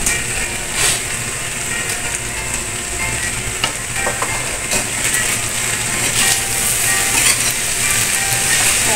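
Cabbage stir-fried in a hot pan for fresh lumpia: a loud, steady sizzle with intermittent scraping and tossing of the stir-fry, close up and without speech.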